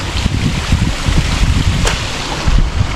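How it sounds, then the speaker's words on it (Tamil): Continuous rushing water fills the scene, a broad, loud wash with some low gusty rumble from wind hitting the microphone. "இந்த தண்ணீரோட இனிமையான அந்த சத்தத்தை கேட்டிங்களா"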